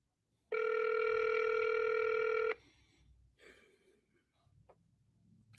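A single loud electronic telephone ring tone sounds for about two seconds, followed by quiet breathing and faint rustling.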